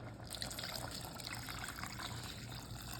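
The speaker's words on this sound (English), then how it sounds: "Okay, now the recipe calls for 3 cups of water. Then go ahead and pour it in." Water pours into an Instant Pot in a steady, continuous stream, a faint splashing rush with no voices.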